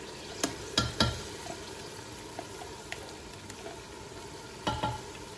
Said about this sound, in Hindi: अब लहसुन अदरक का जो पेस्ट बनाया हुआ वो डाल देना है।